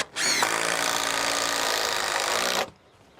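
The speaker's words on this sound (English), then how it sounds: "we can just send some screws down to hold it in place" An impact screwdriver drives screws down into the top of a wooden garden gate post, giving one loud, close whirring burst of about two and a half seconds that then cuts off.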